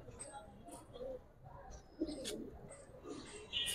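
Silver Pankhi and Laldom pigeons cooing softly at close range among other pigeon breeds, low murmuring coos and a few faint chirps mixed with quiet talking nearby.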